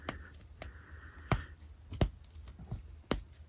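Crunchy clicks from the swivel ankle joints of a Marvel Legends Spider-Punk action figure being worked by hand, a few sharp close snaps spaced about a second apart over faint handling rustle.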